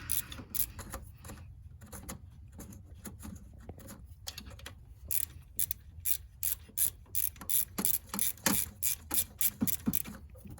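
A 13 mm bolt on the MAP sensor bracket of a Chevy Impala is loosened, with ratchet clicks in irregular bursts that become a fast, rhythmic clicking run near the end, close and without speech.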